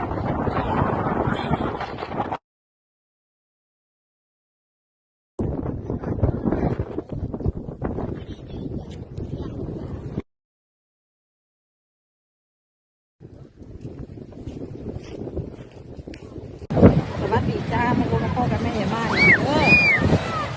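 Strong wind blows at the seaside, heavy buffeting rumble across the microphone in several separate stretches broken by silent gaps, with surf in the background and people talking and children's voices mixed in.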